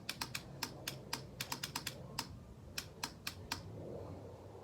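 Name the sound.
Honda Shadow Sabre 1100 motorcycle starter clicking, not cranking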